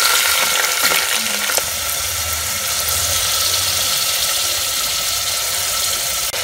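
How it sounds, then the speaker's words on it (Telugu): Three large chopped onions hit hot oil already holding a cardamom pod and two bay leaves in a small cooker, giving a loud, continuous close sizzle and hiss throughout, with no voices. "ఇప్పుడు కట్ చేసుకున్న పెద్ద 3 ఉల్లిపాయలు వేస్తున్నాను."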